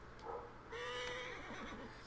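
A horse in the Assassin's Creed video game lets out a whinnying neigh, a rising then wavering call that trails off, fairly quiet and with no talk over it.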